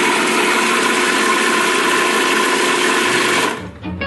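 An electric blender whirs loudly and steadily while blending basil pesto, a continuous close motor drone that cuts off abruptly near the end.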